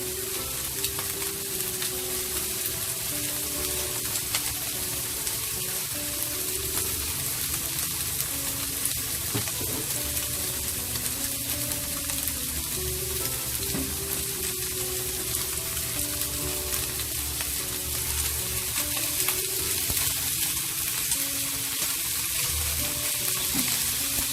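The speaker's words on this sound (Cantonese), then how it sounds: "煎佢大約30秒度" Shrimp pan-frying with a little ginger in a wok, flipped partway and fried again: a steady, close sizzle and crackle runs unbroken throughout with no talking.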